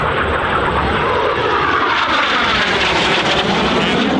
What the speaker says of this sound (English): Solo pilot is climbing away to the right,